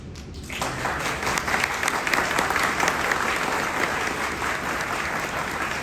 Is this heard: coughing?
no